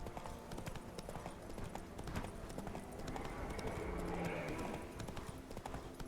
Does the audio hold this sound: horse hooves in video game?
yes